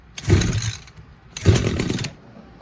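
Two short bursts of a small two-stroke engine on an Echo GT200R string trimmer, each catching and revving for about half a second before dying back, loud and close with no talk.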